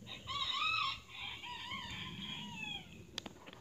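Chickens vocalize nearby, an opening crow-like drawn-out call followed by softer trailing clucks and a few faint clicks, with no talk over it.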